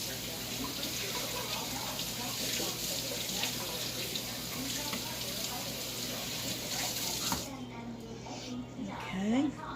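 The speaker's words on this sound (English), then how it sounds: "let me wash my hands" A kitchen tap runs with a steady, close hiss of water while hands are washed under it, then cuts off near the end, leaving quieter handling sounds and a brief voice.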